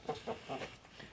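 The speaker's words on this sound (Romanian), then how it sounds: "3 găini și un cucoș." A few soft, quick clucks from three hens, faint and low, in a short burst.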